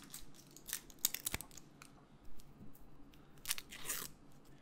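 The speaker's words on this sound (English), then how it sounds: "Let's mince this one first" A knife mincing an onion on a cutting board, a few sharp crisp chops and crunches at close range separated by short pauses in a quiet kitchen.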